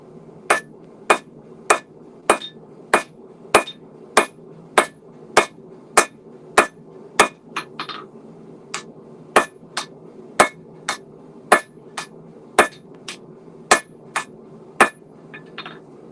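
Sharp, ringing hammer blows on hot metal at a forge, struck alone in a steady even rhythm about once per second, close and bright with metallic clinks over a low background hum.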